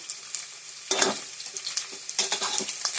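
Spices with turmeric and salt fry in a pan for a local chicken curry made with butter, giving a soft continuous sizzle broken by scraping stirs and light clinks of a utensil against the pan, up close and quiet.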